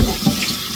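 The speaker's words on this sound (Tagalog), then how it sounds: "Ugasan ko ito ng maigi bago ko siya himayin." Tap water gushing close and loud into a sink while vegetables such as kangkong are washed, a brief steady splashing stream with no talk.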